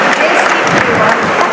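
Audience applause at a national-level dance competition, as a Western dance crew is called to the stage: a brief, dense, loud burst of many hands clapping in a large hall.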